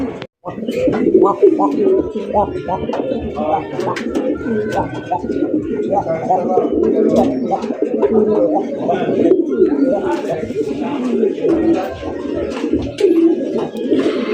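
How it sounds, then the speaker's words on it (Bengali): Male pigeons coo steadily and close by in a dense, throaty chorus that runs the whole time, at a pigeon farm, with a person talking over it. "ডাক দেখাইলাম নরের"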